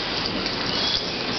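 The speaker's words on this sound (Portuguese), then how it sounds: "E a chuva cai bem fininha." Light, fine rain falls as a sound effect on an LP record, making a steady, even hiss with no pauses or voices throughout.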